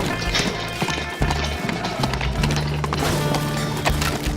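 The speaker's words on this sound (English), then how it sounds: "Take the horse and carriage." A horse pulling a carriage in the Teardown video game gives a steady clip-clop of hooves with rolling wheel rumble, loud and close, over a busy, dense game soundscape.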